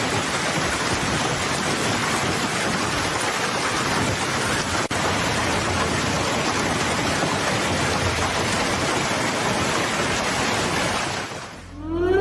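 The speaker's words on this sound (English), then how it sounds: "Huge hailstones pounded the streets of Paris as this intense storm transformed the city into a scene straight out of a disaster movie." Intense storm pounding the streets of Paris with huge hailstones, a steady dense roar of hail and rain hitting pavement, loud and unbroken for the whole stretch before briefly easing at the end.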